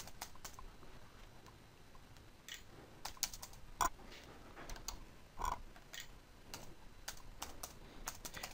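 Typing on a computer keyboard, a quiet, close run of irregular key clicks with occasional louder taps, heard alone.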